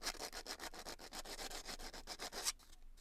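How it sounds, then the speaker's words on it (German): Hand polishing of a screw from a Perkins Prima M50 engine, giving a steady rhythmic rubbing and scraping of a cloth against metal in quick regular strokes. It sounds close and moderately loud with no talk, then stops abruptly near the end. "Ich werde jetzt erstmal versuchen, ob ich hier die Schraube ein bisschen nochmal polieren kann."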